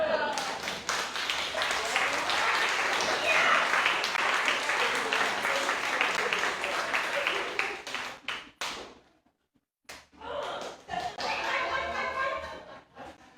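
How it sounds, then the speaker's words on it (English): Audience applause and a few laughs at a story night in Bremerton, Washington, dense clapping that cuts off abruptly, followed after a short silence by scattered claps and chatter. "Alicia Morales, everyone. Round of applause."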